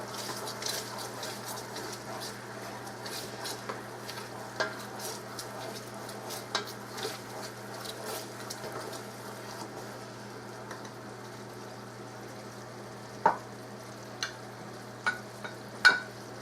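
Candied peanuts sizzling in a hot pan while being stirred, a faint steady fry hiss with soft scraping strokes and a few sharper utensil clicks near the end.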